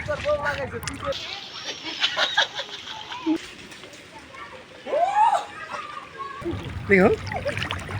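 Water splashing as people bathe at a riverbank during rain, intermittent close splashes and sloshes heard under ongoing talk between a man and a woman.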